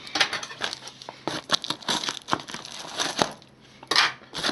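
A mystery package being opened with scissors: crisp crinkling and tearing of wrapping, irregular bursts of rustle and snips up close, with no talking.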